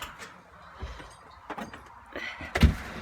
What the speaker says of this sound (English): Open doors.